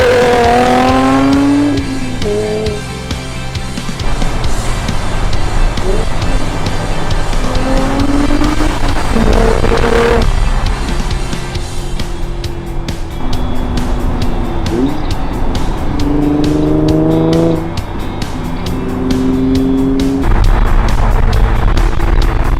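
Nissan 350Z with high-flow catalytic converters installed, its loud exhaust revving repeatedly in rising and falling bursts over roughly twenty seconds, close by, with people talking alongside.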